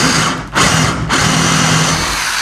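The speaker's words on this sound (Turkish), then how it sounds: "Metal uçla ahşap delebiliyor" Power drill with a metal bit boring into wood, a loud continuous high whine with two brief dips where the motor eases off before spinning back up.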